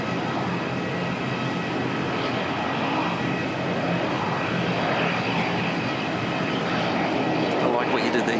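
An airliner lands at Auckland Airport, a steady broad roar of jet engines held at close range throughout, with voices talking faintly underneath.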